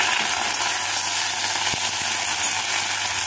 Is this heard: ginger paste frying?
yes